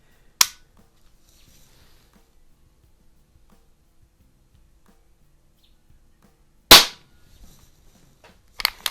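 Break-barrel .177 air rifle shots, an RWS Diana P5 Magnum or Snowpeak SP500, two sharp close cracks several seconds apart in otherwise quiet surroundings, followed at the end by a few smaller clicks.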